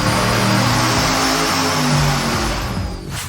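Loud and close, an engine on a dyno roars through a 3-inch exhaust with no muffler, a harsh sustained drone that holds steady and then tapers slightly near the end.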